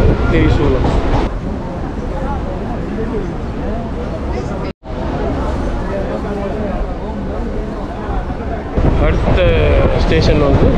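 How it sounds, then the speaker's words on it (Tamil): Suburban train pulling into Pallavaram station in Chennai, a steady loud rumble and rattle throughout with a brief dropout midway, while a voice talks over it. "இப்போ ட்ரெயின் பல்லாவரம் ஸ்டேஷனுக்குள்ள என்ட்ரி ஆகுது"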